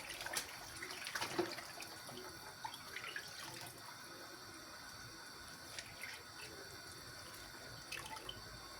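Tap water runs steadily into a kitchen sink while ingredients are washed for a water börek with minced meat and cheese, a faint continuous stream with occasional splashes and drips.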